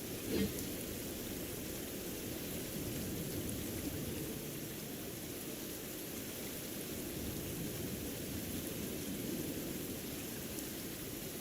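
Steady rain falls in a video game, a dense even hiss of downpour running unbroken for several seconds with no voices.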